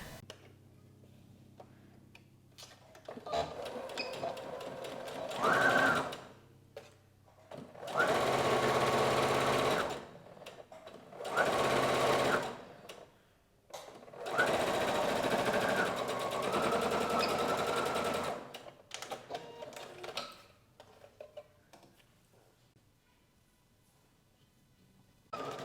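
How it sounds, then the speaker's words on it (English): A sewing machine runs in several close bursts of steady stitching as lace is sewn onto a top. Quieter gaps between runs hold faint clicks and handling noises. "So I'm just going to sew it along here"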